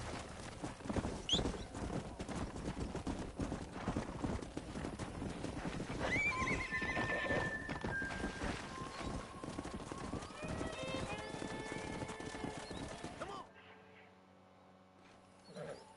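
Horse from Red Dead Redemption, a stallion, gives a loud whinny over clip-clopping hooves and game ambience, with someone talking at times. Everything cuts out near the end, leaving quiet background.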